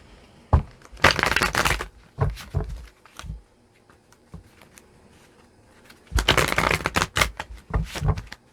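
Cards are shuffled twice, each a fast riffling burst lasting about a second, separated by lighter taps and shuffling handling noises.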